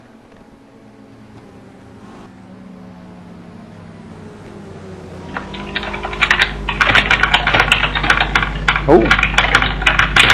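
Frantic typing on a computer keyboard during a sim-racing broadcast at the Nürburgring GP circuit: fast, clattering keystrokes that start after a quiet opening, build to a loud barrage and continue under a low engine drone, with a brief spoken word.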